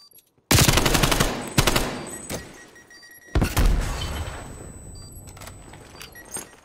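Automatic gunfire in Call of Duty Cold War: a loud close burst of rapid shots, then a few sharp single blasts and another heavy burst that rings out and decays, with no talk.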